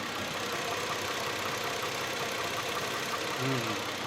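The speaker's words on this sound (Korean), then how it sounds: "6기통 엔진이고요" A six-cylinder engine in a large sedan idles steadily with a low, even hum and no talking.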